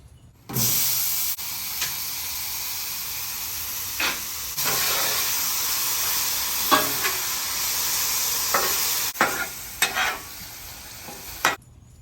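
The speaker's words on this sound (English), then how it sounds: "Let's cook down the strawberries." Strawberries cook down in a hot pan with a loud, steady sizzle and hiss, broken by a few sharp clacks of a utensil against the pan.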